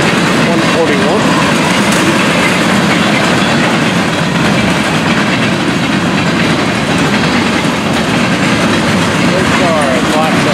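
An FEC freight train with auto rack cars rolls past steadily and loud for the whole stretch, a continuous rumble with rail clatter and wheel noise and no break.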